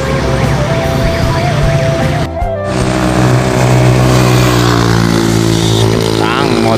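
A motorbike engine roars close by, loud and steady, with a brief dip midway before the engine noise swells again amid busy traffic.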